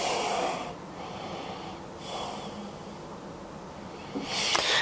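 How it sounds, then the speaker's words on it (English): Slow, deep breaths during a yoga flow, a long airy exhale fading out, then a second inhale and exhale, and a sharper intake at the end, close and clear with no talking. "One more deep full breath here."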